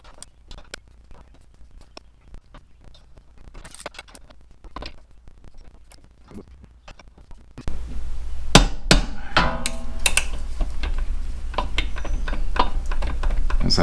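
A 27mm wrench works the rear pulley nut on a 2007 Yamaha V-Star 1300 Tourer, giving scattered metallic clicks and taps that turn into louder, close ratcheting knocks and clanks over a low hum in the second half.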